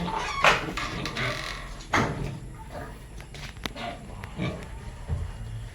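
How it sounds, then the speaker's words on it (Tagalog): Piglets only a few days old on a farm, with sharp squeals and grunts rising over a noisy barnyard background, several bursts close by. "update tayo sa mga biik muna bago tayo tapos"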